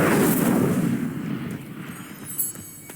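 A fiery blast from an Incendio spell in Hogwarts Legacy erupts loudly at the start, a roaring burst that fades over a couple of seconds, followed by a smaller pop and lingering crackle.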